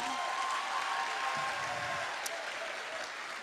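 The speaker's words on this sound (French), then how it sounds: "J'aimerais quand même que vous fassiez un tonnerre d'applaudissements pour toutes les femmes ici présentes" Thunderous applause from an audience honoring the women present, a dense steady wash of clapping that holds loud for several seconds and tapers slightly at the end.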